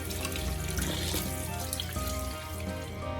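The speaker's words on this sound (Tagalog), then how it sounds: "kailangan natin hugasan ang ating chicken para makontrol natin ang lasa nito" Tap water runs steadily into a kitchen sink while raw chicken is rinsed for fried chicken, a continuous close splashing rush with no break.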